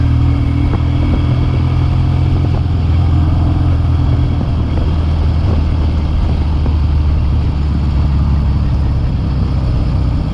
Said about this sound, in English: This bike runs good.